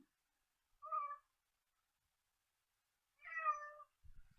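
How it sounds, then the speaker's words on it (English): A cat meows indoors, wanting to be let into a room: two separate plaintive meows a couple of seconds apart, fairly clear against near silence. "It's a cat that wants on in this room."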